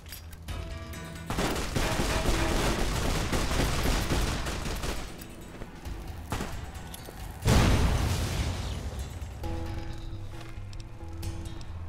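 Plasma grenade blasts and heavy weapon fire in Fallout: New Vegas Lonesome Road crackle in a sustained loud barrage, with a sharp booming burst near the middle before settling to steady combat noise.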